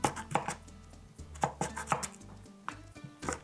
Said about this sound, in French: J'ai ici la moitié d'une patate douce que je vais couper en cubes.